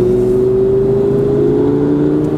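A car engine drones loudly and steadily at close range, its pitch climbing slightly as the vehicle accelerates, with no talking over it.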